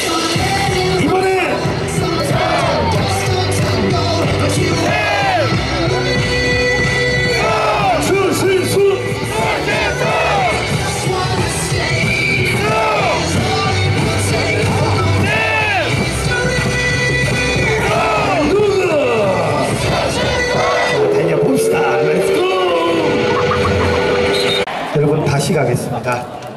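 A crowd at an SSG baseball game chants and yells in unison along with a cheerleader, loud and continuous with rhythmic shouted calls over music-like backing and an amplified announcer's voice.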